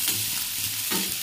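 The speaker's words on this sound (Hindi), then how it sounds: "यहाँ मैंने ऑनियन को डाल दिया।" Chopped onion frying in a pan for a soybean curry, a steady broadband sizzle with soft stirring scrapes, close and continuous over a short stretch, no talking.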